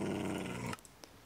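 A tamed Minecraft wolf gives a low, throaty growl, close and moderately loud, which cuts off abruptly and is followed by a couple of faint clicks.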